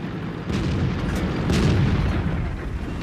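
Tank cannon fire from an Indien-Panzer in a tank video game, a heavy booming blast with a long rumbling roll, loud and close, no voices over it.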